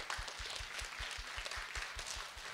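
A hall audience claps steadily together in an even rhythm, rather faint and distant, with no voices over it.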